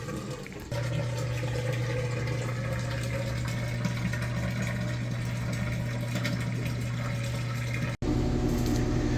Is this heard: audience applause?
no